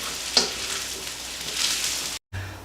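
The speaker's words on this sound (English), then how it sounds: "I'm going to throw my mushrooms in." Mushrooms are tossed into a hot pan for pad see ew, with a steady close sizzle and frying hiss, a brief clatter as they land, and then a short cut to silence.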